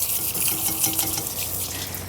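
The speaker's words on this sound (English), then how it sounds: "Giving them all a good rinse." Zucchini being rinsed under a running kitchen tap, a steady, close rush of water splashing in the sink, with no voices.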